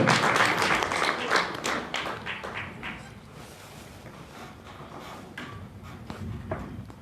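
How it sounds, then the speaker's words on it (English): A business summit audience applauds a panel, loud scattered clapping that thins out and fades to sparse claps and room noise. "Can you please give them a last round of applause?"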